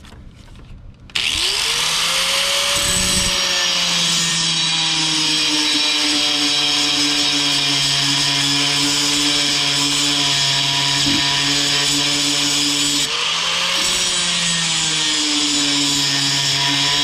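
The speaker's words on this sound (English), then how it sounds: "Drilling" Power drill running steadily during rust removal, a loud continuous high whine with a rising spin-up at the start and a brief dip and restart near the end.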